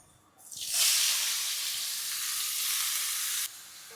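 Fish curry masala hits hot coconut oil in a pan and bursts into a loud, bright sizzle that holds steady for a few seconds, then drops slightly, with no talking.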